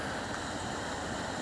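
River water crashes below a wooded path near Barden Bridge, just above the Strid, where the river channels through a narrow gap. It forms a steady, broad rushing roar with no break, moderately loud and alone.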